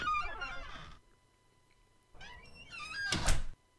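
Virtual door in Second Life giving a creaking squeak and a closing thunk, heard as two separate bursts: a long creak first, then after a short pause a second creak ending in a loud, close thump.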